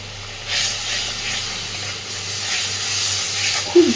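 Water splashed into mustard paste spice frying in oil for an eggplant dish, setting off a loud, steady steamy hiss that rises and falls, with a brief clunk at the end.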